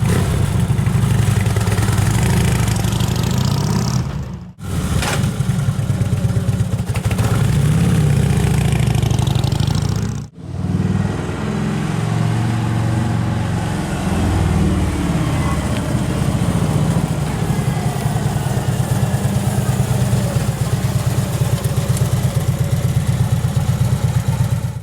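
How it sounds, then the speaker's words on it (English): A Harley-Davidson Tri Glide motorcycle fitted with Öhlins shocks runs loud and close, its steady engine drone broken by two brief cutouts and then continuing evenly, with no talking over it. "We're going to let Bob take a ride on his own to see what the solo suspension feels like"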